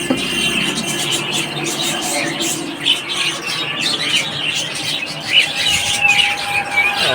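Many birds of various species at a bird market, a dense chorus of close shrill squawks and squeals layered over busy market murmur with brief voices in the background.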